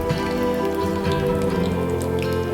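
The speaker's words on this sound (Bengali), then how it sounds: "এপিট ওপিট করে পাল্টে নিয়ে ভালো করে কলার বড়াগুলোকে ভেজে নিতে হবে" Banana fritters crackle and hiss without pause in hot oil mixed with a little ghee, a dense, close, rain-like sizzle that stays even throughout.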